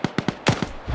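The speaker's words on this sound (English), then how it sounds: "they're being suppressed by that M2 Vic" An M2 vehicle-mounted heavy machine gun in a video game lays down suppressive fire, a quick string of sharp, evenly spaced shots followed by a heavier blast, moderately loud and close.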